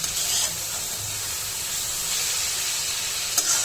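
Taro stolons sautéing in a pan for a bitter gourd fry, giving a steady close sizzle and hiss with a faint scrape or two.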